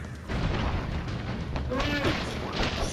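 Explosions thunder through a chaotic Broforce game, with a dense rumbling blast texture, a few sharper bursts partway through, and voices talking over the din.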